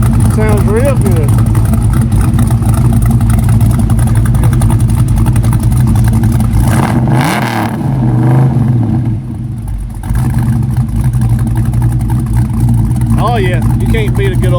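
Ford truck's 351 Windsor V8 with a roller cam idles at a Gulfport block party, a loud choppy lumpy rumble that swells with a brief rev midway and carries on beneath nearby voices.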